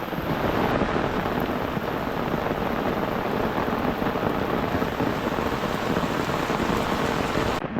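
Heavy monsoon rain pours down in a steady, dense roar over flooded ground in Konkan, loud and close throughout with no letup.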